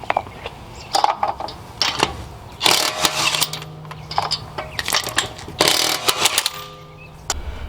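Lug nuts on a Honda Accord wheel broken loose with a 19 mm socket, a run of loud, brief bursts of ratcheting, impact-tool rattling with short gaps between them, close and alone, without talk.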